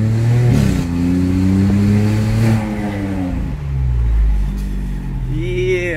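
A Volkswagen Polo TSI engine revs up and climbs through its range, loud and close from inside the car, easing off then building again, with someone talking over it.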